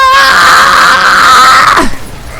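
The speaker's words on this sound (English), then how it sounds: "that's the first time I ever heard my character actually scream or do something" A male character in Black Ops Cold War lets out a loud, sustained scream lasting nearly two seconds that breaks off into a short falling groan, followed by quiet background.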